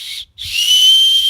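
A survival whistle gives two shrill, piercing blasts at close range: a short toot, a brief gap, then a longer sustained, slightly airy tone.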